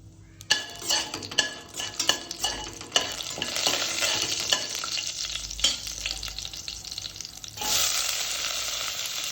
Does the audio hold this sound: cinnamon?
yes